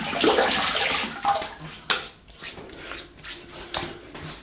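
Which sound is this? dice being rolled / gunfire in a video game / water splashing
water splashing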